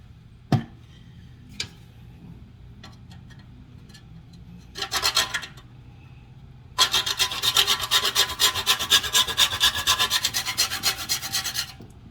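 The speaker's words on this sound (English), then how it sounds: "Do y'all like the sound of this scraping?" Yams are scraped for candied yams during Thanksgiving cooking: a few isolated knocks, a short rasping burst, then a long run of rapid, rhythmic scraping strokes that is loud and close.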